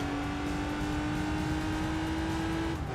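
A steady, droning V6 engine hum from a VW Beetle in the racing video game Gran Turismo 3, at constant pitch, running continuously and loud throughout, with a slight dip right at the end.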